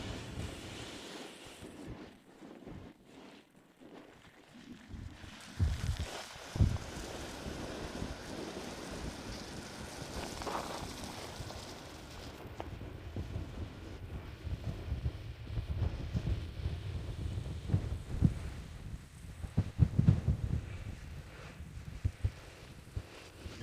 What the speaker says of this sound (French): Avec les vents forts, il est difficile d'arroser à plus de 3 mètres. Le vent emporte simplement l'eau.